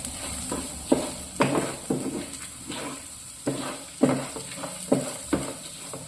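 A spoon stirs a spice mixture with asafoetida in a pan: irregular scraping strokes and soft knocks, about a dozen over several seconds, over a faint low sizzle, fairly close.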